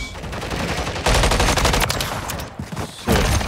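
Fully automatic MCW rifle fire in Call of Duty MW3, a loud, continuous rapid stream of shots with a brief dip before the firing resumes, close and dominant.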